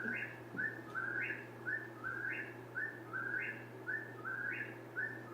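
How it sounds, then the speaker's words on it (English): A whippoorwill sings its repeated three-part whistled call about six times in a steady rhythm, clear and moderately near over a low steady hum. "this is what a whippoorwill sounds like"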